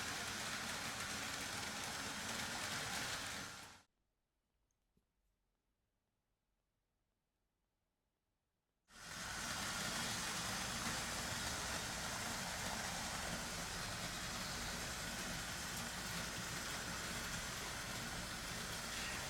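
A 1980s Märklin Crocodile model train runs at freight speed, a steady whirring and rumbling that cuts out to near silence for about five seconds, then returns just as steady until the end.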